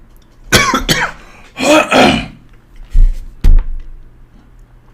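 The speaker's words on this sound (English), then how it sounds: "so I start coughing" Several separate coughs and throat-clearing bursts from a nearby person, loud and abrupt, in two clusters with short pauses between them, with no talk.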